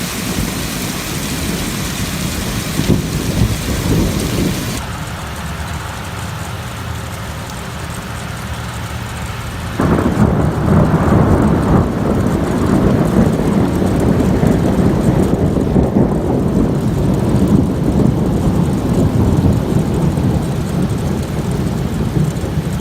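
A night thunderstorm over Amiens: steady heavy rain hisses throughout while deep thunder rumbles, growing louder and fuller midway, close and continuous with no voices.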